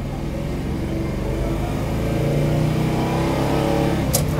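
A Chevy Nova drag racer engine revs steadily and builds as the car accelerates, a loud close rumble throughout, with a brief sharp noise near the end.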